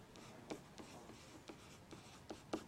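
A pen scratches out a math equation by hand, with short, quiet strokes and taps in an uneven rhythm, close up and without any talk.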